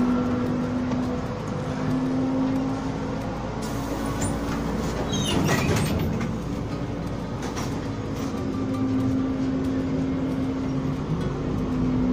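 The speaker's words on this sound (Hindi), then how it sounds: "तो यह है ओम्स का रेलवे स्टेशन" Train noise at a railway station in Omsk, Russia: a steady rumble of rolling stock with a long sustained hum and a brief squealing, clattering surge near the middle, no talk.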